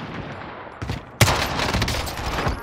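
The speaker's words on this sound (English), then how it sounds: "They're shooting another squad." Video game gunfire as another squad trades shots nearby: a sudden loud burst after a brief lull, then sustained rapid overlapping shots continuing throughout.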